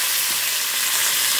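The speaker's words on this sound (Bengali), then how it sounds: "পটল ভাজা দিয়ে আমার রান্না শুরু করলাম।" Pointed gourd (potol) frying in a pan, a loud, steady, close sizzle of hot oil with no pauses and no voices.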